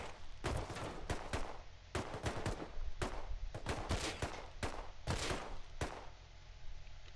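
Gunfire in the video game Rust rings out in repeated sharp bursts of rapid shots, loud and close, with short pauses between volleys throughout.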